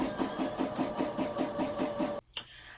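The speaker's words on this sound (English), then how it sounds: "now that we have sewn our sleeve hem" A sewing machine stitches a romper sleeve hem in a fast, steady rhythmic whir of repeated needle strokes, close and alone, then stops abruptly with a couple of small clicks.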